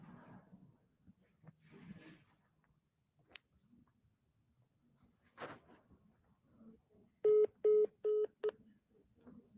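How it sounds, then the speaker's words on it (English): Several evenly spaced touch-tone beeps from a phone being dialed for a call, heard clearly after some soft movement and faint talk, in a quiet room. "I got to make this phone call."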